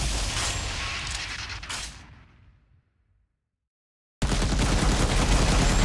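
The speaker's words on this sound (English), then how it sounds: "The machine gunner guy got me." Machine gun fire in an Unreal Engine 4 multiplayer third-person shooter: a dense, loud rattle of shots fades out into about a second of silence, then a harsh, close burst cuts back in at full volume.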